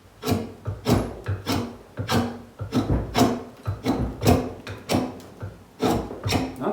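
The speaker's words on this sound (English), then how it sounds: "you take a draw knife" Rhythmic rasping strokes of a drawknife shaving wood held in a vise, close and steady, about two strokes per second with brief gaps between passes.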